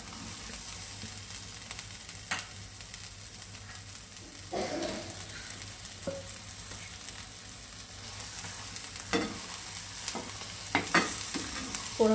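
Prawns frying in masala in a pan, stirred at intervals, with a steady close sizzle and a few louder scraping stirs along the way; no voices.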